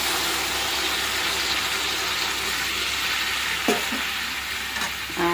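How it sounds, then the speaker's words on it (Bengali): Hot water is poured into oil-fried masala in a pan and bursts into a loud, steady hiss and sizzle that lasts throughout, with a couple of faint utensil knocks near the end. "এখন দিয়ে দেবো গরম জল, এই যে গরম জল করে নিয়েছি।"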